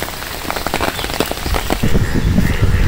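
Heavy rain falls on a Bangladeshi village during a storm, a dense, close patter of drops on surfaces that grows slightly louder and heavier toward the end.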